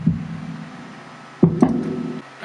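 Drums with a filter applied play as dull, muffled low thumps, a few soft hits with a heavy, dark tone and little high end, close and moderately loud.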